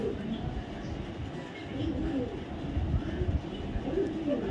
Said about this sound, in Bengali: অনেক বড় সাইজের একটা মাদি কবুতর।